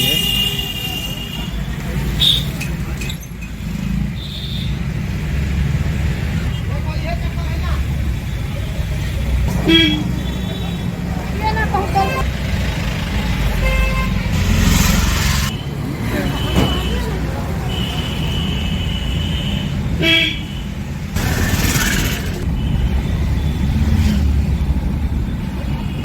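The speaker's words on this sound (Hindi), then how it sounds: "यहाँ का मार्केट है ये।" Busy market street with steady traffic rumble and repeated car horns, several short toots and a couple of longer honks cutting through, with crowd noise and voices in the background.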